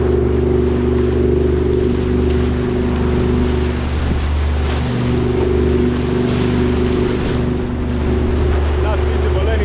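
The engine of a Dufour 520 Grand Large sailing yacht runs under way on the open sea, a steady, loud low drone with a constant hum, mixed with wind rush and water noise the whole time.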